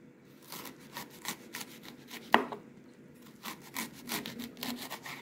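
Collard greens (couve) being sliced with a knife on a board, a fast run of soft rhythmic cutting strokes with one sharper knock midway, fairly quiet and close.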